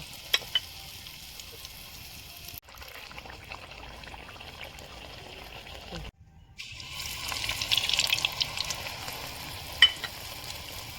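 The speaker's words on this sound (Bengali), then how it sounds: "এরকম করে আমি সব কয়টা পিঠে ভেজে নেব।" Pitha cakes fry in hot oil with a soft, steady sizzle and crackle, quiet and close, with brief gaps and a few louder spatters toward the end.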